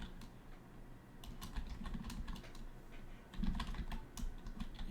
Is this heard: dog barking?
no